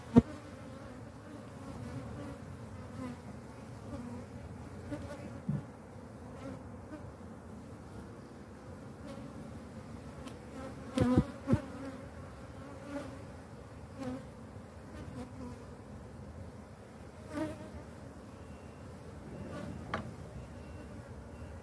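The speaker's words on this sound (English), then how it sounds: "There's so many bees here" Honey bees swarm around an open hive during a split, a dense steady drone of buzzing wings filling the space, close and continuous, with occasional louder passes and faint knocks.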